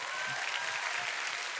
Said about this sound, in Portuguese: Você pode dar uma salva de palmas pro Senhor.